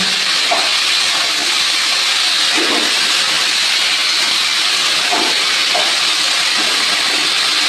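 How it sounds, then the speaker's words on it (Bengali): A paste of ginger, cumin, onion, garlic, tomato and green chili sizzles and hisses steadily in hot oil in a pan, loud and continuous with occasional soft bubbling pops. "আমি এবার আদা, জিরে, পেঁয়াজ, রসুন, টমেটো সব বাটা দিয়ে দিলাম, কাঁচা লঙ্কা সব বাটা দিয়ে এটা কষিয়ে নেব।"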